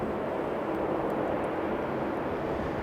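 An aircraft on approach at Sydney airport: a steady, broad engine roar holding at constant loudness throughout, fairly close and continuous with no talk over it.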